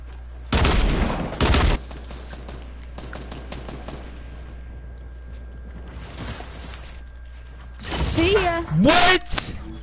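Short loud bursts of video game gunfire, two close volleys near the start and another cluster near the end, with mechanical clicks and a player talking between them over a low steady hum.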